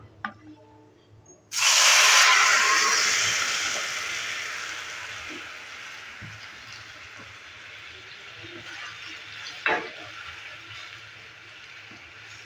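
Pineapple pieces hit hot oil in a pan for pineapple chutney, a sudden loud sizzling hiss that bursts in and slowly fades while a faint voice speaks in the background.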